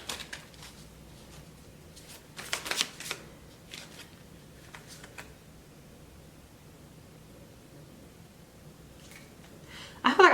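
Tarot cards being shuffled by hand in a quiet room, giving soft papery riffles in a few short bursts with a louder flurry near the end, against low background hiss.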